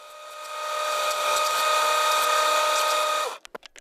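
A disc sander grinds steadily against a wooden knife handle for about three and a half seconds, a loud continuous whine with bright tonal lines, then cuts off into a few sharp knocks and clatters.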